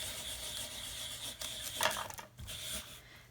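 A homemade burnishing tool made from a candle-jar lid, cardboard and felt rubs over embossed vellum card, giving a steady close scraping rasp with a brief louder scuff midway.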